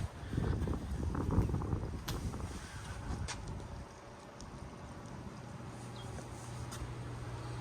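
Gusty outdoor wind buffets the microphone beside a 2024 C8 Corvette, with heavy low rumbling bursts in the first few seconds easing into a steadier, softer rush and a faint background hum.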